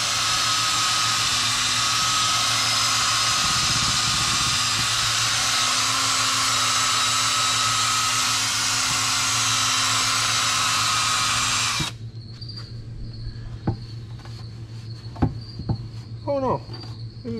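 A small power polishing pad buffs painted accessories and small parts, a steady high whirring hum that cuts off abruptly near the end, leaving quiet handling clicks and faint background sounds.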